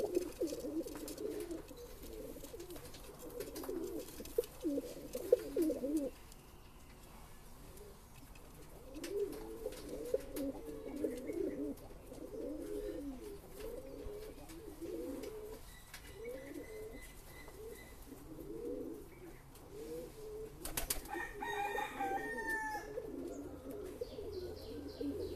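A pair of Madras pigeons coo in repeated soft, throaty bursts close by, continuing through the whole stretch with a few faint chirps and rustles, and no talking.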